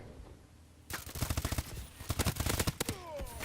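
Rapid automatic gunfire in Call of Duty Advanced Warfare, erupting after a quiet moment into dense, loud repeated bursts with short gaps, close and sustained to the end.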